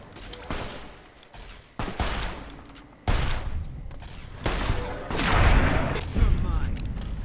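Bursts of gunfire in Fallout: New Vegas come in several separate volleys with sharp onsets, growing louder and denser toward the end, with a voice speaking over the shots.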